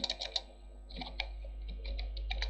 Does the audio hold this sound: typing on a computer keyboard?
yes